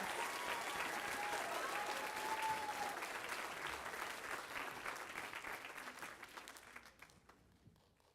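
Audience applause for a 7th grade class at a spring school band concert, steady dense clapping from a crowd that holds for about seven seconds before thinning and fading out.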